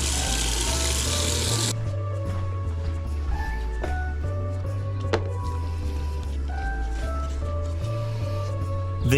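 Tap water running into a container used for soaking water slide decals, a steady close pouring and splashing that thins out after the first couple of seconds into quieter trickles and drips.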